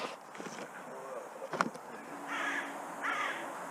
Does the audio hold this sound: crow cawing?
yes